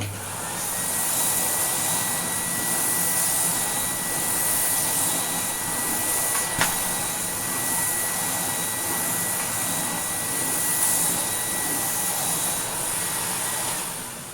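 A restored 1980s Electrolux Z2000 vacuum cleaner runs steadily with a loud, constant motor whine and airy hiss, holding an even tone throughout apart from one brief sharp click midway.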